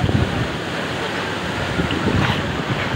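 Waterfall at Mabato Falls in Barangay Mabato, Maragondon, Cavite, giving a steady, loud, broadband roar of falling water that continues unbroken, with some wind buffeting the microphone.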